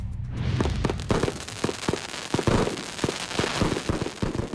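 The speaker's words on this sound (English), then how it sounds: "blowing up fireworks in honor of our Independence Day and also celebrating our freedom" Fireworks set off around Independence Day in Fargo crackle and pop in rapid, irregular bursts, a dense barrage of sharp bangs and fizzing against a noisy outdoor background with no voices.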